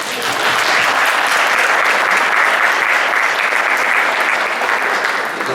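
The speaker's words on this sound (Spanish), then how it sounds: "Vamos a dar un aplauso." Loud, steady applause from a conference audience greeting a speaker at a lecture on historic sites, with dense clapping sustained evenly from start to finish and no talk over it.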